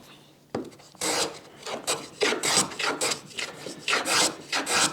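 A hand plane cuts a chamfer along the edge of a wooden dovetailed gift box, giving a run of quick, close, rasping strokes in a steady rhythm, with no talking.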